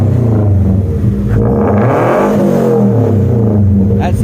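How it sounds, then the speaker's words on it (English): Revving of a Scion FR-S boxer engine with a stage 2 tune and headers, a loud, sustained throaty roar that climbs and falls in pitch, with voices talking over it. "That sounds mean. That's that Boxer engine, which is a famous engine you guys know."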